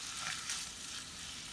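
Sausage and onion sizzle together in a pan for stuffed bell peppers, a steady, even, close frying hiss with no breaks and no voices.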